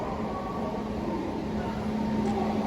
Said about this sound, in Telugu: ప్లాట్ఫామ్ నెంబర్ 1లోకి ఇంకొక గూడ్స్ ట్రైన్ అయితే వచ్చింది, కంటైనర్ గూడ్స్.